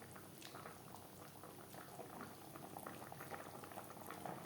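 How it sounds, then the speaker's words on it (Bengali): Fish curry in a mustard-paste gravy simmers at a vigorous boil, a dense, steady bubbling and popping that stays close and continuous for the whole stretch, with no voices over it. "তিন চার মিনিট মাছ বেশ ভালো করে ফুটিয়ে নেব"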